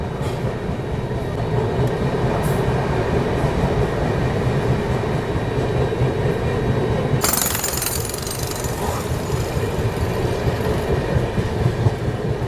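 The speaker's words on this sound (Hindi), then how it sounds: "अभी अपनी ट्रेन पहुंच गई है Dankuni junction railway station. Skip मार रही है क्योंकि हॉल्ट तो है ही नहीं" Duronto Express train passing through Dankuni Junction station without a halt, heard from on board as a steady loud rumble with clattering wheels, a sharp burst of rattling noise partway through, and no voices.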